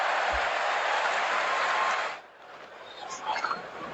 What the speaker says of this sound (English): That will get the biggest cheer of the morning.